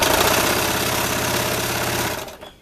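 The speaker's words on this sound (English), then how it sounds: "I'm stitching barely to the edge." A sewing machine stitches fabric along the very edge of a sarong wrap skirt, a loud, fast, steady mechanical whir with regular pulsing that runs continuously and then winds down and stops near the end.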